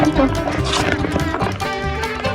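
A donkey moves about close by while being hand-fed carrots on a hiking outing, giving a dense, steady jumble of shuffling, hoof clops and chewing noises that fills the whole clip.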